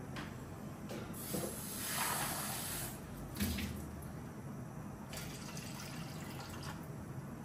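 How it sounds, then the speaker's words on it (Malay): Water poured into a cooking pot for soup, a soft continuous splashing and filling sound with slight swells, fairly faint and alone. "Okey, saya masukkan air dia. Masukkan air dulu."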